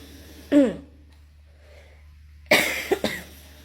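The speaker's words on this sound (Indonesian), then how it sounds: "mohon maaf ya saya batuk" One sharp cough, then a pause, then a double cough, close to the listener in an otherwise quiet room.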